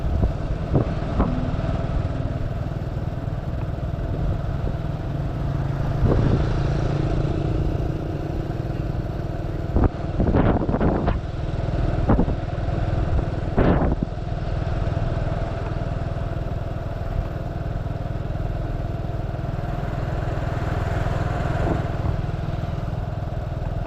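Street traffic in Vientiane on a Saturday evening, with cars and motorcycles, forms a continuous engine hum and rumble with passing motorbikes, a few sharp clattering bursts around the middle and faint distant background noise.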